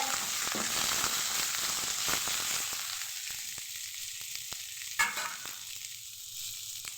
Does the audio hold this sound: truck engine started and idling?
no